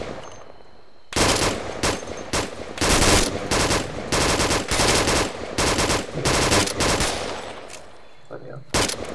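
Loud, sustained bursts of automatic gunfire in a military video game rattle almost nonstop, with brief gaps between volleys and faint voices mixed underneath.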